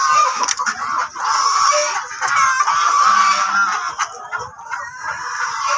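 Native chickens cluck and call in a rearing pen, several birds overlapping at close range with a busy, continuous chatter and occasional louder squawks.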